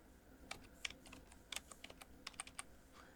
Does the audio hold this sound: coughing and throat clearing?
no